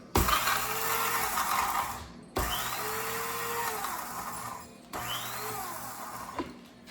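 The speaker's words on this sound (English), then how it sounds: "I'm going to grind it up in the spice grinder." An electric spice grinder pulverizing rosemary and oats, running in three loud, close whirring bursts of a couple of seconds each, separated by brief stops.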